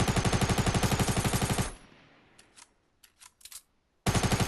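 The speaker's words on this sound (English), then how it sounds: "So I started shooting with my SMG." SMG fire in Fortnite Battle Royale: a fast, loud, rhythmic burst of automatic shots that stops, leaving a few faint clicks and small impacts before another rapid burst starts abruptly.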